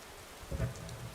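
Steady rain hisses in the Skyrim game world, joined midway by a low rumble of thunder, with no voices heard.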